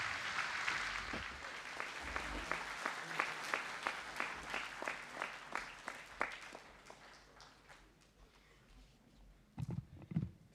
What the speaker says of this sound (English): Can we give Jack a massive round of applause, please?